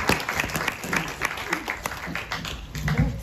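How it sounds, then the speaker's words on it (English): Steady applause from a library talk audience, a dense patter of clapping hands throughout, with some murmuring mixed in. "Let's give a big round of applause."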